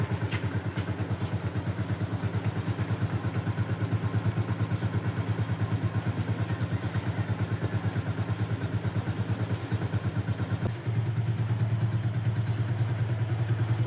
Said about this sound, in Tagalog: Naliliko ang kanyang bike. Ang kanyang motor.